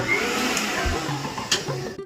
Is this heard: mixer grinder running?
yes